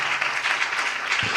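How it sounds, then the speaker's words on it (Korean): A church congregation gives a short burst of steady, dense applause for a Korean missionary's sermon about revival, with many hands clapping together at close range. "주님께 영광의 박수 있습니다"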